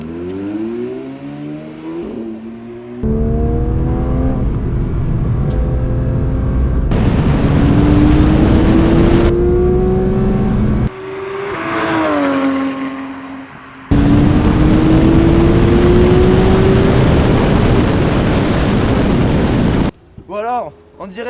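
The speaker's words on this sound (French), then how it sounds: "Alors, en direct de la GT3, la toute dernière, exceptionnelle sur circuit. Le bruit en haut des tours, c'est vraiment une tuerie." A Renault R.S.01 GT3 race car on a circuit, its engine screaming at high revs through repeated upshifts with rising pitch sweeps and brief cuts between gears, loud and close from inside the car.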